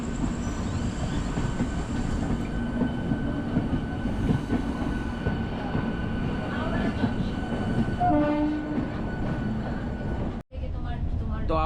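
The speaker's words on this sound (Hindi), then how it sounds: "हर टाइम पे कोई ना कोई सबअर्बन ट्रेन और लॉन्ग डिस्टेंस ट्रेन आती है और जाती है।" Trains rumble through the busy Howrah railway station at night, a continuous heavy rolling clatter of wheels on track with squeals and brief horn-like tones, loud and close.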